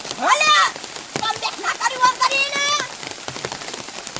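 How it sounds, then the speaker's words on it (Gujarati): Rain falls steadily in a village. Its soft patter is mostly buried under loud, lively talking voices. "આ સારું વરસાદ છે"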